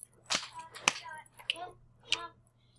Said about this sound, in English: Give yourself 2 claps, 2 snaps.